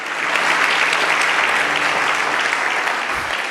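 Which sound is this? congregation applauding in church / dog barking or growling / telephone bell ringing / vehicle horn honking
congregation applauding in church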